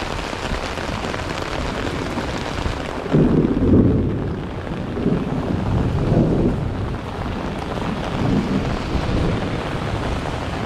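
A heavy downpour at an outdoor rummage sale drums steadily, with deep thunder rumbling in several rolling bursts partway through.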